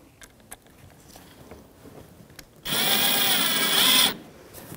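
A power drill snugging the headlight mounting screws on a 2007-2017 Jeep Patriot, one steady close whir lasting about a second and a half after some faint handling clicks.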